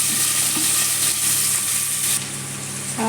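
Onions and tomatoes tossed into a hot pan for a chicken gravy, a loud, dense sizzle that hisses steadily, then drops to a quieter fry partway through.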